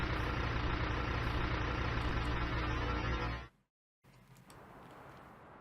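Farming Simulator tractor engine running steadily at a loud, even drone with low rumble, cutting out abruptly near the end, followed by quieter ambient hum.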